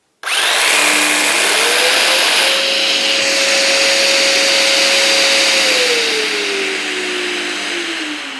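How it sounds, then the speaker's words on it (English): A Festool CT dust extractor runs with a steady loud whine, then switches off and winds down over the last few seconds, its pitch sliding lower. "And then the extractor automatically switches off."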